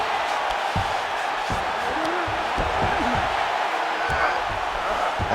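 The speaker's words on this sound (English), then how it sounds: "The crowd's going crazy because they appreciate high-level mixed martial arts" An arena crowd roars at a UFC fight, a dense, loud, steady wash of cheering and shouts from a large audience, with scattered whoops and occasional thuds under the din.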